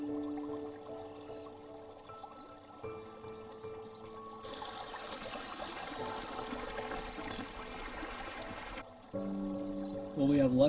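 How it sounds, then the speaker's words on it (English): Water rushes and splashes in a small creek, a steady broadband flow that swells louder through the middle and eases off near the end, with no talking. "Welcome to my own little creek paradise."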